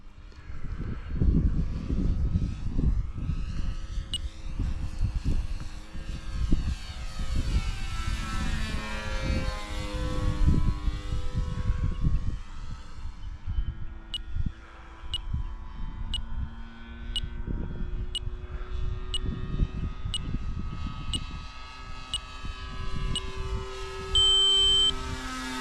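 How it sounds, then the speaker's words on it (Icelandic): An E-flite Commander model airplane's electric motor and propeller drone steadily nearby at Arnarvöllur airfield, with pitch rising and falling as the plane passes and wind buffeting the microphone, no talk. "Það heyrir þó allan í mótornum."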